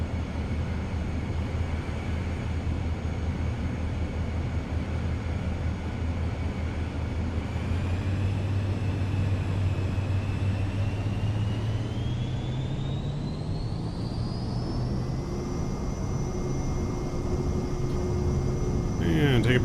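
Cirrus Vision Jet engine spooling up for takeoff from runway 34 left at Van Nuys in Microsoft Flight Simulator, a steady hum whose whine rises in pitch as power comes on.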